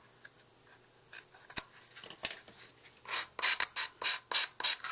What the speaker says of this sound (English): If it's a little too long, go ahead and just trim the edges.